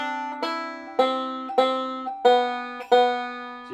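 Bluegrass banjo picks the third and fourth measures of Yankee Doodle in even quarter notes, a string of bright plucked tones, each with a crisp attack and ringing decay, played solo and close up.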